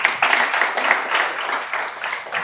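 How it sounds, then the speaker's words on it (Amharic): An audience applauds quiz contestants at an Ethiopian quiz show: steady crowd clapping of moderate loudness, continuous throughout with no voices over it. "አጨብጭቡላችሁ።"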